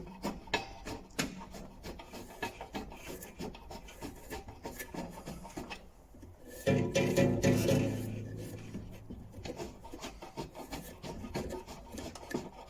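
On a DeWalt DW739 bandsaw, the blade tension wheel is cranked tighter, producing a steady close rasping and rubbing, with a brief ringing tone from the tensioned blade swelling up midway.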